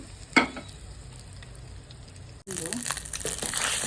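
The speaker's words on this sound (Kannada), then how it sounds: "ಈಗ ಸಾಸಿವೆ ಹಾಕ್ಕೊಳ್ಳಿ, ಗೋಡಂಬಿ, ಒಣಮೆಣಸಿನ್ಕಾಯಿ, ಕರಿಬೇವು" Mustard seeds, cashews, dry chillies and curry leaves dropped into hot ghee for pongal. A quiet pan and a sharp clatter come first, then a loud, sudden burst of close sizzling that keeps going, with no talk.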